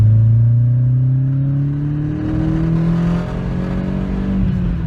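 A car driven on a shopping trip, its engine note climbing steadily as it accelerates, a loud close-up rising hum and whir from inside the cabin with no voices.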